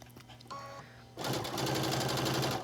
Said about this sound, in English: I'm going to stitch a little bit, and all the way across the front of the top, I'm going to stretch the binding just a little bit,